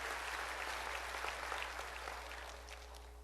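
A church congregation applauds during a sermon, sustained, dense clapping that sounds fairly distant in a large room, with a low steady hum beneath.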